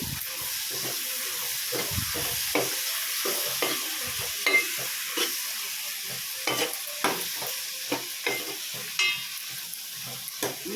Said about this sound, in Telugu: ఒక హాఫ్ కిలో దోసకాయ కట్ చేశాను ఇప్పుడు వేస్తున్నాను వేసేసి అంతా ఒకసారి కలుపుకోవాలి